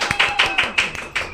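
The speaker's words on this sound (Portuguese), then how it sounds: "uma salva de palmas" Applause welcoming a guest on a podcast, heard as a few sharp, separate claps at a brisk, uneven rhythm, close and moderately loud, with a faint tone running underneath.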